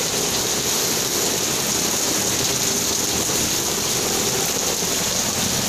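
Heavy rain pours down in a dense, constant hiss, loud and close, with no voices and no letup.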